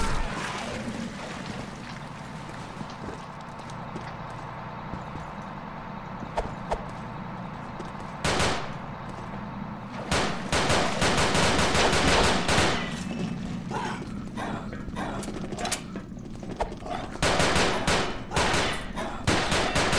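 A sentry gun firing in the online shooter Combat Arms: sparse single shots at first, then dense rapid bursts of automatic gunfire dominating the second half, loud and close over steady background game noise.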